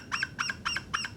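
A Knight & Hale game call sounds four evenly spaced, shrill squawks that imitate a distressed bird, each one short, bright and close, with no talking.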